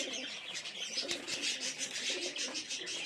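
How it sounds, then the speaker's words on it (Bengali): Pigeons coo softly during evening feeding, repeated low throaty calls in a steady rhythm with occasional light chirps, fairly close and alone without talk. "এই যে বেশি পায়রা।"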